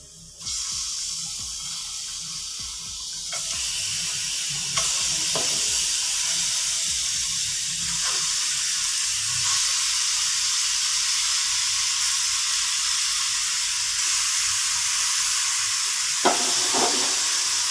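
Chicken frying in a karahi on a lit stove, a steady loud sizzle and hiss that swells in stages as pieces go in, with occasional clinks of a spoon or utensil against the pan.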